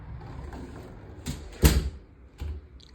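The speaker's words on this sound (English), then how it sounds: "I'm gonna shut the door." A hotel room door swings closed with a sharp thud and latch click at the midpoint, a few lighter knocks and rattles around it, set against a quiet room.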